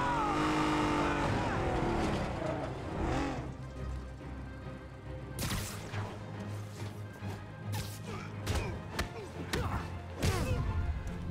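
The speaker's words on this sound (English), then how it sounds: "Please let the car behind me stop!" In-game traffic from Spider-Man on PS4, an engine passing with crashes and thuds, followed by quieter street noise and sharp impact hits, with some talk.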